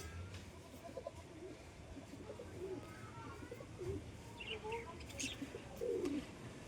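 A pigeon coos softly in short bursts from a rooftop coop among several pigeons, with other birds chirping faintly against steady background noise.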